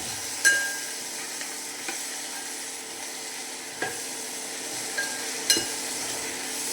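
Brinjal, potato and green chilli curry sizzles in a pan while being stirred, a soft steady frying hiss broken by occasional clinks and scrapes of a spoon against the pan.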